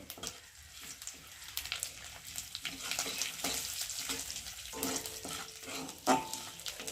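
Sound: bay leaves and whole cumin frying in oil

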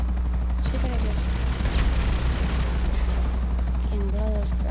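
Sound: helicopter flying in video game Grand Theft Auto V

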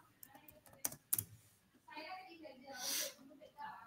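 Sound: typing on a computer keyboard

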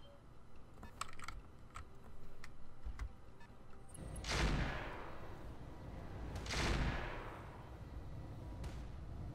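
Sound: autocannon fire in Roguetech video game

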